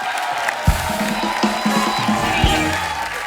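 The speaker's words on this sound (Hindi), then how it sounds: "एक बार जोरदार तालियां हमारे शाख्स के लिए" A studio audience at a talk event with Lenskart CEO Peyush Bansal and Namita Thapar cheers, whoops and applauds loudly for a guest, a dense, steady roar of voices with a few sharp shouts rising above it.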